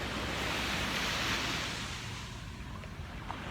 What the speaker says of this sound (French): Je suis à la plage, comme vous pouvez peut-être entendre les vagues.